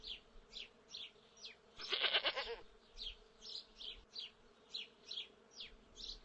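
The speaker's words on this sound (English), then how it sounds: "Here is a goat." A goat on a farm gives one short, faint bleat early on, surrounded by steady, repeated buzzing insect chirps that fill the quiet pen.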